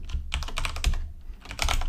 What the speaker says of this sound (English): We'll just type in